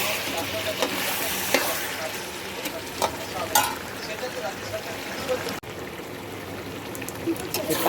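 Chicken frying in oil in a covered pan, a steady crackling sizzle with stirring scrapes and a few clinks, while someone talks over it.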